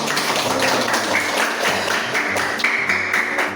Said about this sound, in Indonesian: Tepuk tangan dulu anak ya